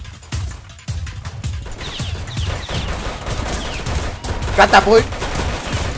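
Rapid gunfire bursts in a Roblox hood game set in the Bronx, loud and repeated across several seconds with a sharp volley near the end, mixed with excited talk from players.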